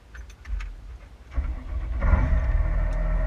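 A tractor engine cranks and starts up after a few faint clicks, then settles into a loud, steady low rumble close by.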